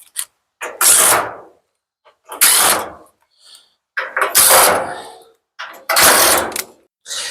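Screws are driven out of the front panel of a Samsung dryer with a power drill, giving four separate whirring bursts about a second long, each followed by a short pause, loud and close with no talking.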